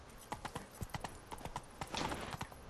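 Horse hooves clip-clop in a quick, steady gallop in The Witcher 3, with irregular close hoofbeats and a faint whinny-like sound near the middle.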